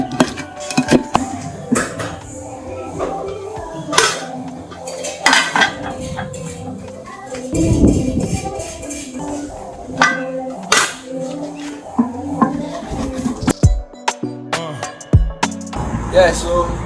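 Garlic, ginger and pepper grinding in a local blender, a busy clattering and knocking mix with metallic clinks and bursts of rattling, loud and near, with a voice talking over parts of it.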